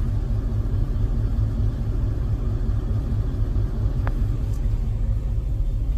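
Subwoofers driven by a Taramps amplifier playing a 33 Hz bass tone inside a truck, a deep, constant rumbling drone with a pulsing low throb and faint rattles, no voices.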